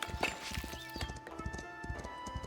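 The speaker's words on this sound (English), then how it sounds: "We have a seneschal approaching. Via horse, by the sounds of it." Horse hooves clip-clopping in the video game Foundation, a steady run of close, distinct hoof strikes with a rhythmic gait, accompanied by faint clinking tones in the background.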